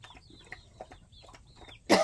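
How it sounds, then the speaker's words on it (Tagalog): Chickens roaming around a house cluck in short, repeated calls at moderate distance, ending with a brief burst of louder noise. "At ito yung mga manok na nangangapit bahay, oh."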